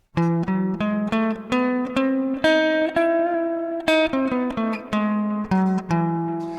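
A harmonic major scale, with a major third and flat sixth, played note by note on a bright, synth-like keyboard, each tone clearly separated, rising then falling in a steady rhythm.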